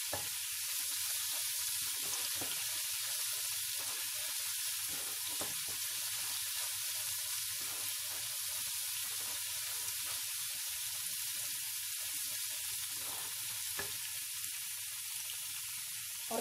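Onions brown in a pan with a steady, soft sizzling hiss, close and continuous, with faint crackles and no voices.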